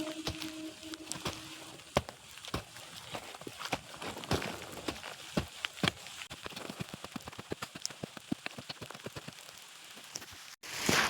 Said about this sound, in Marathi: आता जोरदार पाऊस सुरू झालेला आहे